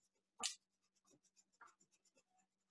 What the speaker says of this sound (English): I have a pink color pencil, and I'm going to color in his ears.